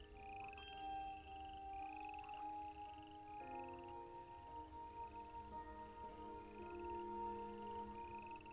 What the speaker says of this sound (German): Da sind die Frösche.